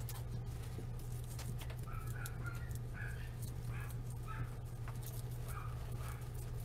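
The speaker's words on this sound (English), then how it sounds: "Oh, puppies are at it." Puppies barking and whimpering indoors, with a scattered series of faint yips and whines over a steady low hum, fairly distant and without talk.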